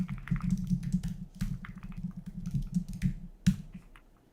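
Rapid clacky keystrokes on an MQ80 mechanical keyboard, typed in steady bursts at close range during coding, with brief pauses and a few sharper accented clicks.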